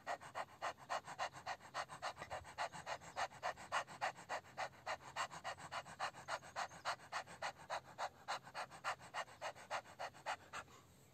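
People imitating a happy dog panting, a quick, steady rhythm of breathy huffs repeating for several seconds, close and fairly quiet, without spoken words.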